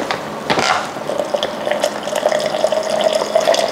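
Hot water poured into a cup to make Taiwanese milk tea, a loud, close, continuous watery rush lasting a few seconds with no talking.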